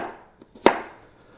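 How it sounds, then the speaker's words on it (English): A knife cuts through food on a cutting board while it is sliced into sticks for a salad: a couple of soft strokes, then one sharp, close thud of the blade hitting the board. "I'm going to give them one cut that way, one cut that way, and now I've got sticks"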